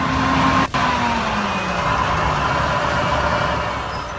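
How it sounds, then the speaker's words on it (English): A heavy-loaded oversize truck with multi-wheel steering crossing a narrow bridge: a loud, steady engine drone with a falling tonal whine, plus a brief dropout near the start. "Navigating a heavy-loaded vehicle across a narrow bridge may seem impossible, but with multi-wheel steering, even the most difficult maneuvers become achievable."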